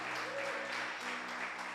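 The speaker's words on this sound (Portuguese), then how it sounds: "Aplauda o nome do Senhor Jesus" A church congregation applauds during a service, with dense, steady clapping that holds at an even loudness throughout the short stretch.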